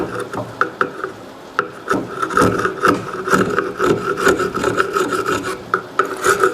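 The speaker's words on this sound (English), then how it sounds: "now I've let it dry, and now I can just scrape it off" A scraper rasps dried finish off a wooden serving tray made from restoration remnants. The strokes are close and loud, repeated in uneven rhythmic pulls with short gaps between them.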